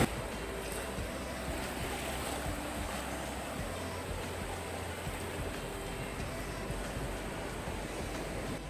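Surf rolls steadily onto the beach at Torrevieja on a cool early-spring day, a constant broad wash of breaking waves with a low rumble beneath, heard alone without voices.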